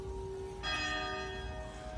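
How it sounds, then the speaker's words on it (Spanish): Church bells ring in the tourist town of San Miguel de Allende, a sustained metallic tone with a fresh strike partway through adding bright overtones that linger and decay, heard at moderate distance over faint ambient noise. "las campanas."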